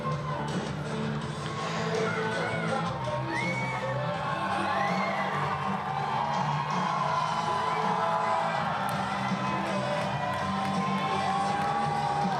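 A large crowd at a wrestling show in Saint-Ambroise keeps up a steady roar of cheering, with whoops and whistles rising out of the continuous din for the whole stretch.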